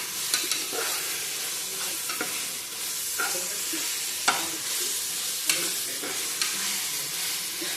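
Ginger garlic paste fries in a pan for chicken biryani, a constant loud sizzle broken by the scrape and knock of a spatula stirring now and then.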